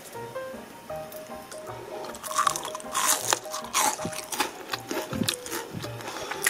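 Crispy deep-fried perilla flower clusters are bitten and chewed close up, giving a series of irregular crunches over a few seconds, with no talking.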